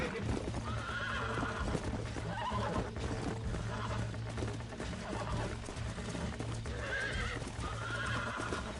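A horse neighs and whinnies repeatedly in the video game Red Dead Redemption over steady clip-clopping hooves, loud and close, with a constant low hum running underneath.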